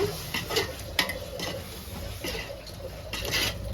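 A spoon stirs yogurt into a chicken biryani mixture in a pot, giving soft scraping and clinking against the metal over a faint sizzle, with no talking.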